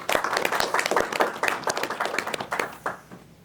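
Audience members at a tech event clap briefly, a close burst of fairly sparse individual hand claps that thins out and fades near the end.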